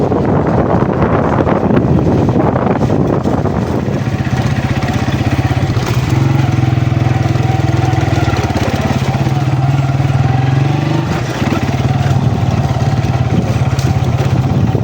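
A motorcycle rides through a Punjabi village, its engine a steady close drone that rises and falls slightly with speed, with heavy wind buffeting the microphone throughout.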